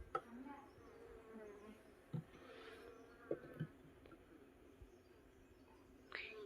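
Honey bees hum steadily around an open beehive during an inspection, a continuous close buzz with a few soft knocks and thumps from handling the hive.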